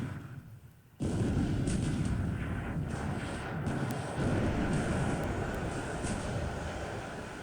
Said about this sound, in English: End of the day, many shells also hit my ships